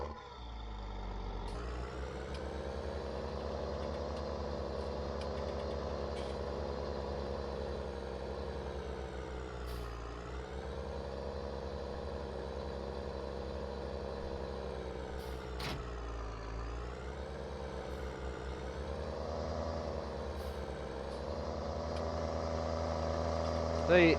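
A Case tractor of about 200 horsepower in Farming Simulator 19 runs steadily with a low, continuous engine drone and small shifts in pitch as it works, and a voice talks over it now and then.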